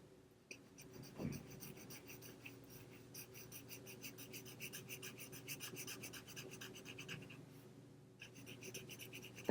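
A pencil shading back and forth on paper to fill an inch square, a steady close scratchy rasp running almost without pause, quiet and alone.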